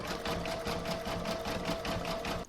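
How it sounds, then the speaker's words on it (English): An embroidery sewing machine stitches a zigzag round with a steady, rapid mechanical chatter and an even motor whine, close and continuous. "I'm now going to pop this back into my machine and stitch round number 8 to do the zigzagging around the edge."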